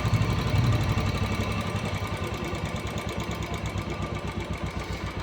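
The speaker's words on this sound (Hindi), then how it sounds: "अब इसकी रेस कम करके देख लेते हैं भाई।" Royal Enfield Classic single-cylinder engine settling to idle after the throttle drops, a close, rhythmic thumping putter that steadies into an even beat, no voices.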